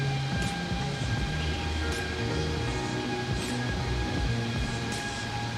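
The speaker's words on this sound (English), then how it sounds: "Oh, and the subway, I guess." A subway train rolls past in the X-Plane 12 flight simulator, a steady rumbling rail drone with faint periodic clicks from the wheels, continuous and moderately loud with no talking.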